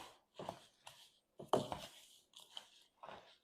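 Soft, squishy mashing and stirring of an Oreo cookie and cream cheese mixture, heard as several short, quiet bursts with pauses between them.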